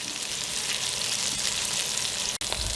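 Steak searing in a cast iron skillet, a steady, close, crackling sizzle that runs unbroken, with one brief dropout near the end and no talking.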